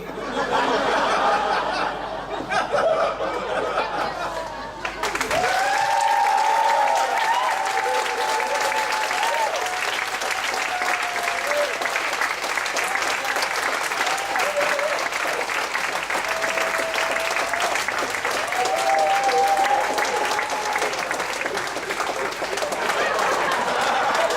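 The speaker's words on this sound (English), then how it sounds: "Also that applause was for yourself" Sustained audience applause fills a comedy show in Ubud, Bali, starting loud and dense after a brief quieter stretch, with whistles and a few chuckles rising above the clapping.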